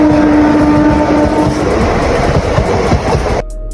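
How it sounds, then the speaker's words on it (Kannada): A Mumbai CSMT train crosses near Bagalkot, loud and close, with a sustained horn tone at first over heavy rolling rumble and clatter that cuts off abruptly near the end. "ಮತ್ತೀಗ ಇಲ್ಲಿ ಕ್ರಾಸಿಂಗ್ ಆಗತೈತಿ ಯಾವ್ದಂದ್ರೆ ಮುಂಬೈಗೆ ಹೋಗು ಮುಂಬೈ CSMT ಟ್ರೈನ್."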